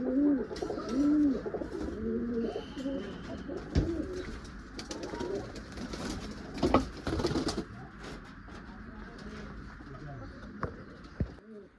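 Malwai pigeons coo repeatedly nearby in low, burbling calls that overlap, with rustling, a few sharp thumps and a voice talking at times.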